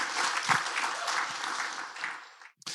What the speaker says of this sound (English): Men, you should give them some applause right now.